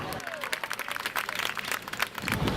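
An audience applauds during a freestyle frisbee dog competition that serves as a world championship qualifier: dense, steady crowd clapping at moderate distance, filling the whole stretch with a swelling rise near the end.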